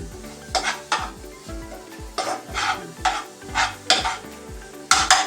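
A ground chutney mixture stirred into hot coconut oil with asafoetida, rhythmic spoon scrapes and clanks against the metal pan over a low sizzle, close and repeated every half second or so.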